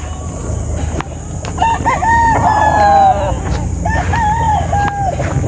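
A bull stag gamecock crows twice up close, each crow a loud drawn-out call with a rising start and a long wavering tail, followed by a shorter second crow over faint farmyard background noise.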